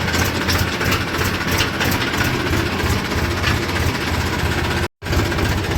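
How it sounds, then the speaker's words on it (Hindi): A tractor engine chugs loudly and steadily while driving, a heavy low rumble with constant vibration and no break except one instant dropout near the end. "तो दोस्तों अब चल पड़े हैं ट्रैक्टर लेके"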